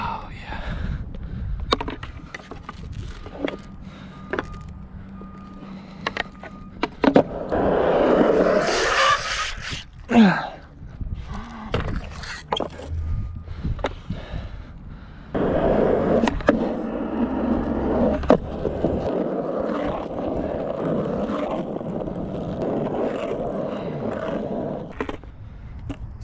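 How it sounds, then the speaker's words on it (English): Cheap skateboard wheels scraping and grinding through backside power slides, rolling rumbles broken by two long rough slide bursts and clacks, with voices talking at times. "I did a bunch of backside power slides and they did not flat spot."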